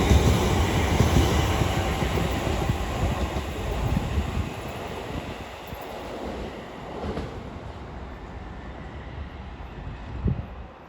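Class 350 electric multiple unit 350 239 runs through Milton Keynes Central on the West Coast Main Line, a loud, steady rumble and rush of wheels that eases slightly, with a brief sharp knock near the end.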